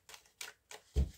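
A deck of tarot cards is cut by hand: four soft, quick papery slaps in a row, the last with a duller thud, faint and close in a quiet room.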